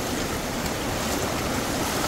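Water rushes in a loud, steady roar of churning flow up close, with no pauses or voices, a deep stream running through rocks in Eaton Canyon.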